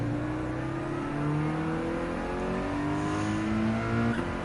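A Toyota GR86 racing car engine in Gran Turismo 7 holds a steady, droning tone with gradual pitch shifts as it runs along the track, loud and continuous with no voices.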